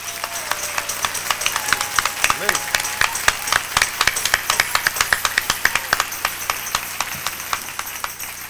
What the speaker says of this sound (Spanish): Tiene que ser un aplauso con ánimo, así, vamos